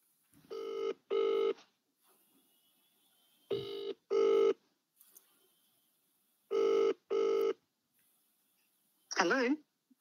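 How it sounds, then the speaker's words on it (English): Telephone dialing tones for a sales cold call, several pairs of short loud tone bursts spaced a few seconds apart, followed by a brief warbling ring tone, with near silence in between. "Okay, keep dialing."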